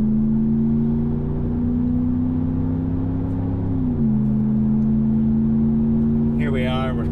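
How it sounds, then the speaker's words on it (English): A Ram 1500 pickup's aftermarket performance exhaust drones steadily as it accelerates to highway speed, the engine note holding then dropping briefly as it shifts before climbing again; a voice starts at the end. "this is a mildly aggressive truck, I would say, or exhaust note"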